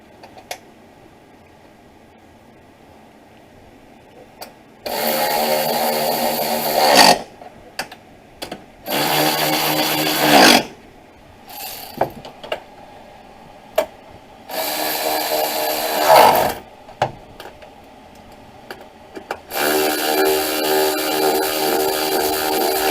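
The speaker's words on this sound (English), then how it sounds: "Make sure you put your ratchet the right way." A ratchet drives bolts home on the wiper motor of a 2005 Honda Accord, in four loud, steady mechanical bursts of about two seconds each, separated by short pauses with faint clicks and handling noise.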